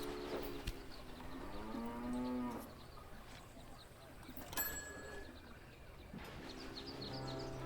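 Cattle in the Railway Empire railway strategy game moo several times, drawn-out lowing calls at the start and end with a quieter stretch of ambient game sound between them.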